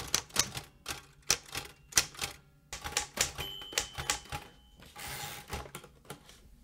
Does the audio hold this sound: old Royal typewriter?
yes